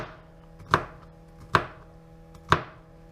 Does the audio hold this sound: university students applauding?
no